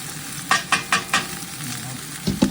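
Sausage with fennel seed sizzling in a pan while a utensil scrapes and breaks it up, four quick rhythmic scrapes over a steady fry, then a pause and two more strokes.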